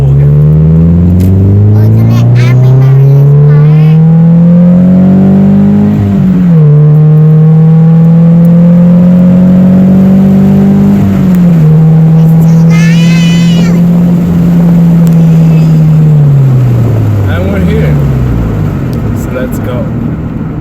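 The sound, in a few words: Scion FRS car accelerating hard in a pull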